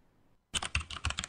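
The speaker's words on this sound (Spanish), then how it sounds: "Activa tu teclado y envíanos un mensaje." Computer keyboard typing used as a sound effect in a radio station jingle: after a brief near-silent lead-in, a quick run of crisp, clicky keystrokes rattles along at close range with no voices over it.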